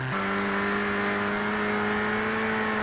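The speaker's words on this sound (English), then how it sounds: "I did slag off the engine sound before, but in this bumper view, it sounds a lot better" Ford Racing Puma engine in a racing video game, heard from a bumper view as a steady sustained drone holding a constant pitch after a brief rise at the start, loud and continuous with no talk.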